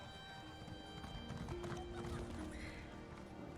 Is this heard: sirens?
no